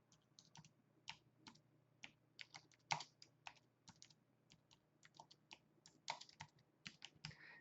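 Someone types on a computer keyboard, quiet irregular key clicks in quick bursts with short pauses, close by and alone against a faint background hum.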